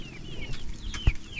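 Tagalog-breed chickens make thin, high chirping calls close by, with a sharp thud partway through over a low, rumbling outdoor background.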